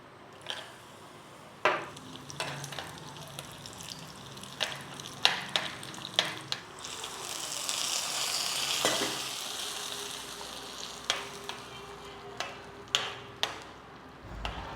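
Milk payasam made with rice, ghee, cashews and raisins is being stirred and heated in a pot, giving a soft, steady sizzle with scattered light ticks and scrapes of the spoon against the pot.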